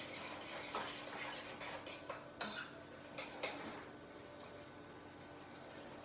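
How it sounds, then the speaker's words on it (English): A spoon stirring French toast mixture in a pot, making quiet scraping with a few light clinks against the metal over a soft steady background. "Give this a stir."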